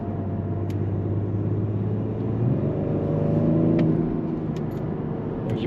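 BMW 550d Touring diesel with 400 hp, in comfort mode, pulling hard through its gears: a steady in-cabin engine drone that climbs in pitch, drops at a shift, then climbs again, with no talking.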